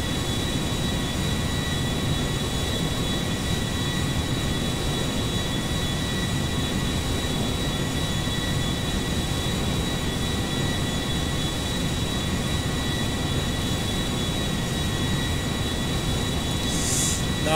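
Steady, unbroken engine roar of an Airbus A350 airliner in flight in GTA 5, a constant broadband drone with faint high tones, unchanging in loudness throughout.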